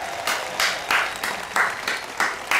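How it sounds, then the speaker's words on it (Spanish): An audience at a Franco Escamilla stand-up comedy show applauds, the clapping landing in a steady rhythm of loud bursts at close range with no talking over it. "El aplauso para Alonso,"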